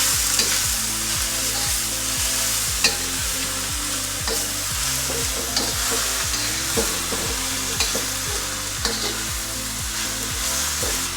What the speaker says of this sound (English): I'm gonna add the wood ear mushrooms and the lily flowers. Give that a stir.